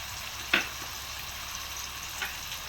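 Turmeric, ground and crushed red chili, dried coriander and cumin sizzle softly in hot oil for egg curry, a quiet steady hiss broken by a couple of sharp stirring clicks.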